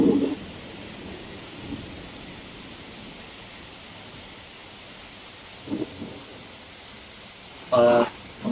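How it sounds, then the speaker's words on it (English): Thunder from the Silent Hill 2 video game, a low, sustained rumble over a constant hiss of rain, with a couple of brief snatches of speech late on. "and I still hear that thunder"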